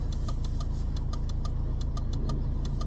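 A 2002 BMW E39 car engine idles steadily with a low rumble and a regular ticking, close by with no talking.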